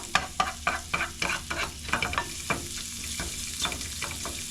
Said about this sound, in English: Now make sure you cook these onions well.